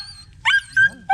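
Hungry dogs giving short, high yelping barks and whimpers, three quick bursts close by with brief gaps between them.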